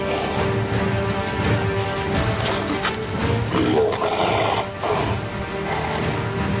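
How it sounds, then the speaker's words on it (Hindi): Tigers fighting in the forest of Ranthambore, loud throaty roars and rumbling growls rising and falling continuously, rough and close. "ऐसी भयानक आवाज के साथ बाघ गुर्राते हैं कि पूरा जंगल दहल उठता है।"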